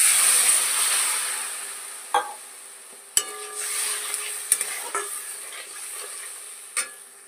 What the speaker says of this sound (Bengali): মশলাটা বেশ ভালো করে কষানো হয়ে গেছে